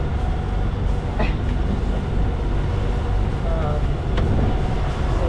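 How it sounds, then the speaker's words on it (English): A long train rumbles past in a steady, heavy roar, continuous and fairly loud, with faint voices underneath. "big long train here."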